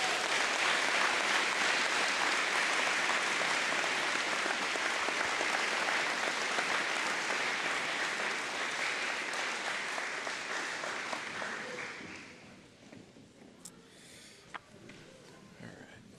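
A graduation audience at a school ceremony claps in dense, sustained applause that fills the hall, then gradually fades to scattered claps and quiet room noise.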